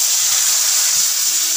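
Tamarind water hits hot oil with whole mustard seeds for a dahi vada chutney, giving a loud, close, continuous broadband sizzle and hiss that holds steady for the whole moment.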